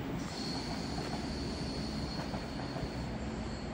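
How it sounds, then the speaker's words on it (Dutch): Train wheels squeal with a sustained high metallic whine over a steady rumbling roll as a train moves through Sittard station in the Netherlands, loud and continuous with no voices. "De lok is er helemaal eens aangekoppeld,"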